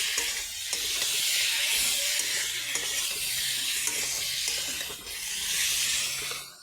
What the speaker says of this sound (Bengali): এই যে দিয়ে কিন্তু নাড়াচাড়া দিয়ে ভেজে নিচ্ছি